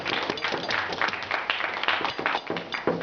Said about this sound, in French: bravo quand même, on applaudit